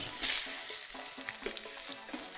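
Onions frying and caramelizing in a braising pan give a steady close sizzle with small crackles and the occasional stir, with no talk.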